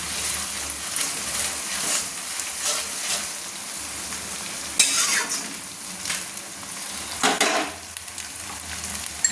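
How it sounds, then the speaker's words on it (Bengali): Ginger paste stirred into mutton frying in a pan, with steady close sizzling and scraping spoon strokes against the pot and a few louder stirring bursts. "এবার আমি দিয়ে দিচ্ছি আদা বাটা, আদাটা বেটে রেখেছিলাম, দিয়ে দিলাম। একটু নেড়ে নিচ্ছি।"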